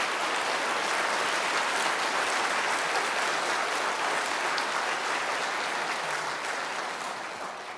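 Sustained audience applause fills a lecture hall after the introduction of astronomer Françoise Combes, a dense, steady wash of many hands clapping that stays loud throughout and tapers slightly at the end, with no voices.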